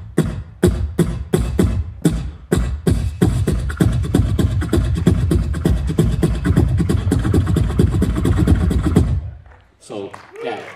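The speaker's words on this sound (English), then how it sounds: "so the big drum sounds like this." A big bass drum is struck in a quick series of loud, booming hits, first spaced with pauses, then in a rapid continuous roll that stops abruptly before some faint voices.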